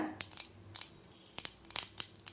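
Mustard seeds and urad dal frying in hot oil for lemon rice pop and crackle in sharp, irregular bursts, close and moderately loud, with brief quiet gaps between spatters.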